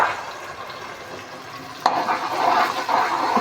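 Half a kilo of ground tomato stirred and roasted in a pan for a chicken vegetable dish, a steady sizzle that grows louder after a sharp clatter midway, with no talking.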